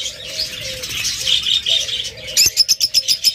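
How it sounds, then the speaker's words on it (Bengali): A tame pet bird calls with bright, high chirps over a steady background, turning into a quick series of sharp, evenly spaced chirps near the end, close by with no talking. "ওটা হলো আপনার টেম পাখিটা।"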